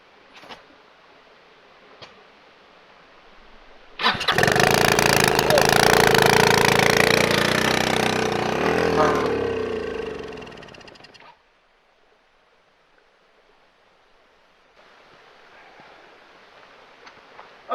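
An old project engine being brought back to life bursts into a loud, rough run well above idle for about seven seconds, then cuts out abruptly, leaving near silence with a faint hiss.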